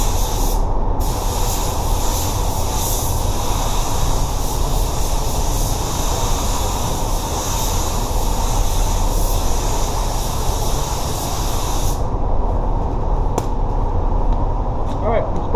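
A paint spray gun hisses continuously while spraying Axalta base coat onto an Audi spoiler, a loud, steady airy rush that runs for about twelve seconds and then cuts off, leaving near silence.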